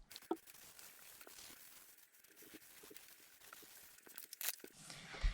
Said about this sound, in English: I am going to take a pad of foam, rip a little part off.